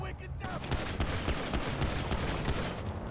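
Gunfire in a police patrol shootout crackles in dense, continuous bursts of sharp shots, loud and close, with a brief lull near the start and no clear speech.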